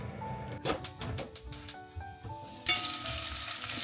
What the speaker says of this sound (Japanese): 塩コショウをなじませたら中火にかけてお肉を炒めます。